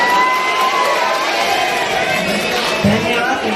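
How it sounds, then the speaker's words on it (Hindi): A crowd at a farewell kavi sammelan, a Hindi poetry gathering, applauds and cheers to welcome the poet Bhandari. The dense, loud clapping and cheering holds steady for a few seconds, close by. "तो जोरदार तालियों से स्वागत कीजिए कवि भंडारी जी का"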